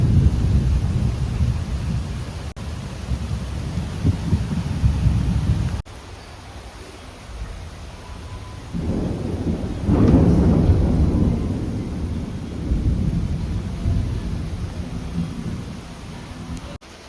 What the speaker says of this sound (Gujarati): એકદમ ફાસ્ટ વરસાદ આવી રહ્યો છે